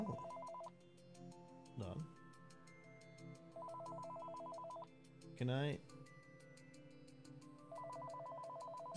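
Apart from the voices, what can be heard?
telephone ringing in VR video game Did I Survive Accounting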